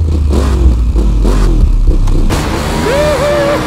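A 2021 KTM 1290 Super Adventure S motorcycle engine revs hard, close and loud, with rising and falling pitch sweeps, first in short repeated blips and then a long climbing rev.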